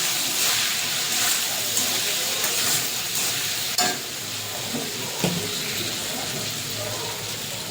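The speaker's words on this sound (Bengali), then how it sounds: "আর দিয়ে দেবো এই ঘিয়ের মধ্যে হলুদ" Turmeric dropped into hot ghee for pulao gives a continuous close sizzling hiss, broken by a few soft stirring scrapes and one sharp clink partway through.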